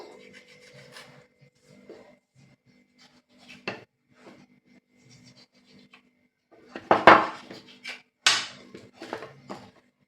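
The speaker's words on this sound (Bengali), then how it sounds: "একটা ছুরির সাহায্যে ধারগুলো একদম কেটে সমান করে নিতে হবে" Knife trimming the edges of rolled-out potato dough on a board, a few soft scraping and tapping cuts spaced apart, then a couple of louder close scrapes near the end.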